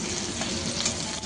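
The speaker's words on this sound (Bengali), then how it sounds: "আলুটা লাল লাল করে ভাজা হয়ে গেছে" Potatoes fried until reddish-brown in a pan, a steady, close sizzle and crackle with light stirring, continuous through the short moment with no talking.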